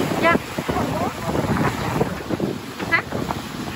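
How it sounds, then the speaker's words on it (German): Wind buffets the microphone on the deck of a boat on the Danube, a steady gusty roar with water and engine noise beneath and people talking over it. "Es ist zwar windig, aber nicht so kalt."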